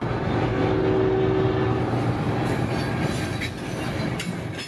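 A CSX local freight train led by a lone ES40 locomotive rolls along a rail line in central Florida's phosphate country. A close, continuous rumble of wheels on track carries a brief squeal early on and fades slightly toward the end.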